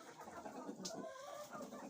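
Hens cluck softly around a henhouse on a sunny day, faint and distant, with light ambient outdoor noise and no talking.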